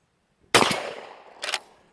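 A Hawthorn Viking shotgun fires one loud, sharp blast nearby, followed by a decaying echo and a second, quieter crack about a second later.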